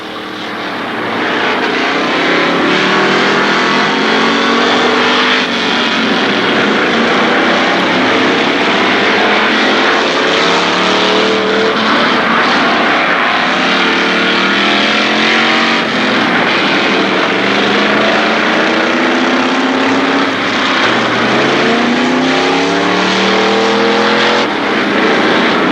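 Race cars roar steadily around a dirt speedway oval at Kil Kare Speedway during Labor Day championships, loud and continuous, with engine pitches rising and falling as cars pass.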